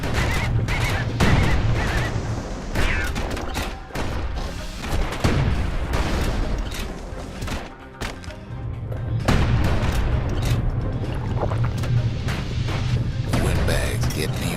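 Gunfire from security skiffs rakes a river boat in the game Bastion, dense repeated shots and crashes layered over a steady loud bed of music and effects, with someone speaking throughout.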